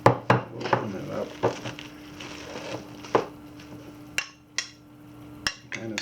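Marinated wild-caught steelhead trout being stirred and mixed in a container, giving soft irregular wet scrapes and a few sharp taps of utensil against the dish, close by with no talking.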